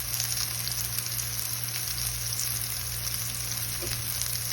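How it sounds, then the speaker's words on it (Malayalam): Soya chunks fry in a small amount of oil in a pan, giving a steady, close sizzle with faint stirring and no talking. "കംപ്ലീറ്റ് സോയാ ബോൾസ് നമ്മൾ ഒന്ന് വറുത്ത് ഒരു പാത്രത്തിലേക്ക് മാറ്റിയിട്ടുണ്ട്"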